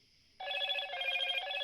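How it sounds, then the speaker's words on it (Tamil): A phone ringing indoors, a faint tone that jumps into a loud, bright, continuous electronic ring, alone with no talk. "Bro phone for you."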